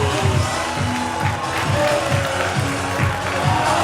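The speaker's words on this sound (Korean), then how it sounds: "우리 일어나서 미친 듯이 박수 쳐주시면" Guests at a Korean first birthday party clap and cheer enthusiastically in a busy, crowded room, the noisy applause mixed with crowd noise and a pulsing low background.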